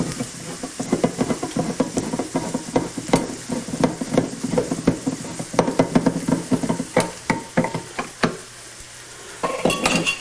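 Diced tomatoes with green chilies being stirred into taco spaghetti in a pan, busy scraping and clinking of a spoon against metal with a low simmering sizzle, a brief pause near the end before stirring resumes.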